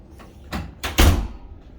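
A door in a studio room at Disney's Polynesian Resort opens with a quick run of close clunks from the latch and hinges, building to one heavier thud before fading out.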